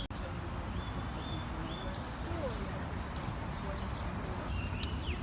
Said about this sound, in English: The older generation took pride in the singing birds.